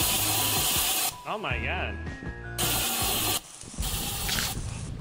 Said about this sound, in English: What do we do with the spray paint?